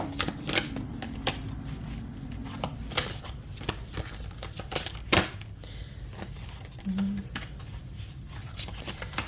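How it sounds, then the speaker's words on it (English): A deck of cards is shuffled by hand, giving repeated quick riffling bursts and clicks close to the microphone throughout, with faint background noise. "I'm going to shuffle again and let's see what comes out."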